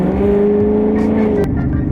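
A 2018 Ford Mustang with a Pedal Commander throttle controller accelerates hard, its engine a loud, steady climbing drone heard from close by, ending with a brief sharp click.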